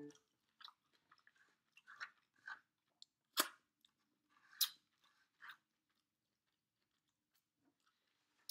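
Someone chews pizza topped with arugula, with quiet, close crunchy bites and chewing in short scattered bursts separated by silence.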